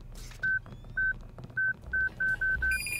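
A series of short electronic beeps in the video game Deus Ex: Revision, seven clean evenly pitched tones spaced irregularly and speeding up, ending with a higher tone.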